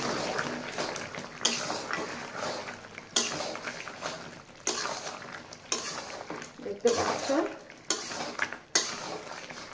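Chicken curry is stirred in a kadai whose bottom tends to stick, giving repeated scraping and clinking strokes of a spoon against metal in a steady rhythm at close range, with soft cooking noise between strokes.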